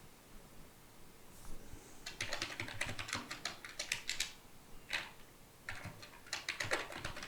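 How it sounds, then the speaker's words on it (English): Rapid typing on a computer keyboard, bursts of close, crisp key clicks with short pauses between runs, no voices. "let's type few dummy messages"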